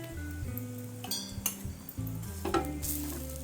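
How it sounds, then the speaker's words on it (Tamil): Green gram chapati frying in oil on a flat pan, with a steady close sizzle under background music and a few light clinks of a utensil. "அப்படியே நான் திருப்பி போட்டுட்டு ரெண்டு பக்கமும் ஆயில் சேர்த்துக்கிறேன்"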